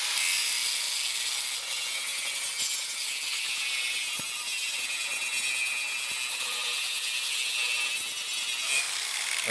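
An angle grinder fitted with a hard Pferd ceramic disc grinds steel with mill scale, a loud, sustained high-pitched whine with a harsh rasping edge, steady for the whole stretch.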